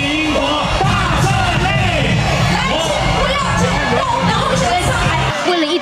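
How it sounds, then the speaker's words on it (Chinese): A packed crowd of Han Kuo-yu supporters at a rally in Taoyuan screams, shrieks and cheers continuously and loudly, with overlapping shouted voices throughout. "人都还没露出脸，尖叫声已经四起"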